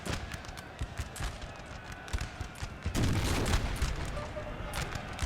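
Cannon and musket volleys from a Napoleon Total War battle with Bavarian and Austrian troops, a busy crackle of scattered shots building into a denser roar of gunfire midway, with distant booms underneath.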